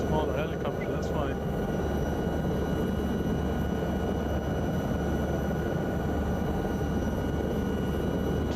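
Steady, dense rotor and engine drone of a small Lama helicopter flying over north-west Ireland, heard from inside the cabin, continuous and loud throughout with a brief faint chirp near the start.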